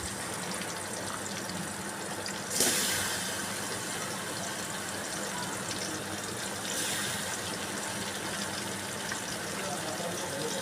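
Fish frying in a pan with onions and green chillies, a steady broadband sizzle with a louder hiss burst near the start as a piece goes in and a second swell later.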